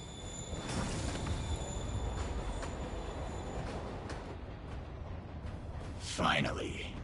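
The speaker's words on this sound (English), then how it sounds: "Train moving. Lee's getting away." A video game train rumbles along the rails and pulls away, a steady rolling roar with faint high squeals that fades after about five seconds, then a brief voice.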